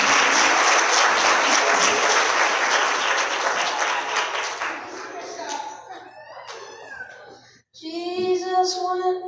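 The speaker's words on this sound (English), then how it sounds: "And I need you to clap your hands." A church congregation claps together steadily and loudly during a live-streamed service, the clapping fading out before a voice begins singing or speaking.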